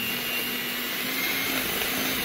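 An electric hand mixer whirs steadily as it beats softened cream cheese with crushed Oreos, a constant close motor drone with no pauses and no talking.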